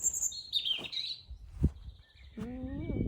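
Birds chirp and tweet in bright, quick bursts, some sweeping calls up close, with short pauses and a low rustle between them.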